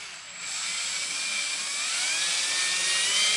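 Drill-driven oil pump priming on a Buick 350 engine, spun at low speed: a steady high whine that slowly rises in pitch, close and continuous with no talking.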